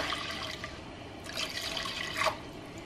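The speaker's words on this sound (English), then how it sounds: "And now I'm going to add in 3 cups of milk" Milk pours into a smooth flour mixture for baked mac and cheese sauce, a steady close liquid rush that swells twice, with no speech.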